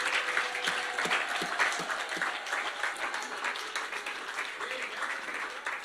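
Church congregation applauding in praise during a pastor's service, a dense sustained wave of clapping with some voices mixed in.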